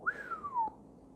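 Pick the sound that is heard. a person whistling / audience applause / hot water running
a person whistling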